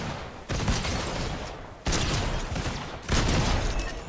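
Gunfire in a multiplayer video game, three loud bursts of rapid shots that start abruptly, each a sustained crackling volley, with no voices over them.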